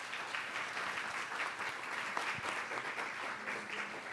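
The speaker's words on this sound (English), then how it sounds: "a round of applause for Jeanette and Steph." Audience at a lecture event on the war correspondent Maggie Higgins gives sustained, full applause, a thick continuous roar of clapping that holds steady from start to finish.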